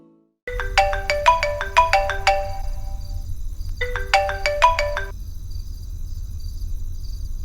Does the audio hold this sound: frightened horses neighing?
no